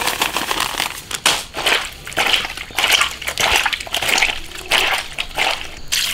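A duck is scrubbed by hand with salt and strong liquor. Close, wet squelching, rubbing and sloshing come in uneven repeated strokes.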